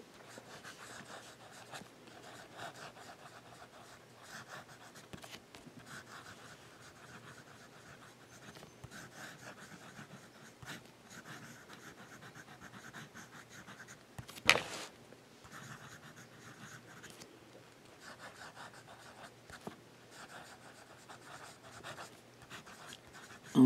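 A Sailor 1911 fountain pen with a wet, smooth nib scratches steadily across paper in a quiet close-up, a soft continuous rustle with faint strokes and one sharper tap partway through.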